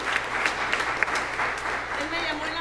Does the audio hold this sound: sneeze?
no